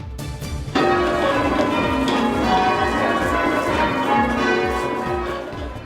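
Church bells peal for the King's Coronation, a dense, continuous cascade of overlapping chimes that swells suddenly after a brief quieter start and rings on loud and steady without any voices.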